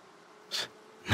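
Bees swarm around a hive knocked down from a tree in a Pandora jungle video game, a brief buzzing pass swelling then fading, followed by another rising buzz at the end over a quiet background.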